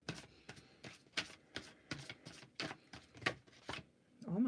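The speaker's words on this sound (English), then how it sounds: "Give it one more shuffle through." A deck of tarot-style cards is shuffled by hand close to the microphone, giving a rapid series of soft papery riffles and taps in a quick uneven rhythm, fairly faint.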